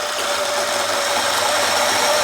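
A DF83V coffee grinder running at a reduced 500 RPM, giving a steady, loud motor whir with a constant tone that holds unbroken throughout, no talking.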